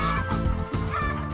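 Free-range laying hens roaming a pen in an oil palm plantation, giving loud, close, overlapping clucks and harsh calls in a continuous busy flock chorus.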